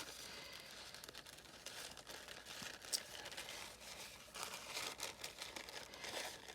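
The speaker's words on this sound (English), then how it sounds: "And I'm just cutting it with my scissors instead of" Scissors cut through decorative paper for backgrounds on an oversized envelope, a steady close run of crisp snipping and crinkling paper rustle with no talk.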